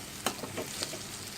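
Potatoes roasting in a pan for poha, with a soft steady sizzle and a few light scraping stirs close by, and no voices.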